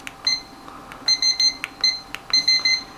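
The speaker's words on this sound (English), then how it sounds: "Once it hits the maximum fan speed, it actually makes that double beeping sound." Electronic beeps from a Cooler Master Cosmos II case fan controller at maximum fan speed come in quick pairs, high-pitched and repeated several times, with faint clicks between them.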